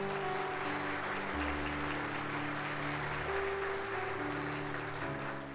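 Church congregation at a Sunday service applauding in praise, steady broad clapping heard alongside sustained organ or keyboard chords that carry through the whole moment.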